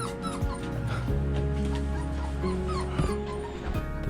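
A one-month-old puppy separated from its parents whimpers and yips repeatedly, high thin cries close by in a quiet setting, with no talk.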